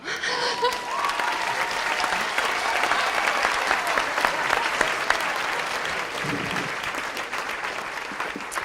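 An audience at a Teacher of the Year gala applauds in a long, steady round of dense clapping that fills the room, with faint crowd murmur and a little laughter beneath it.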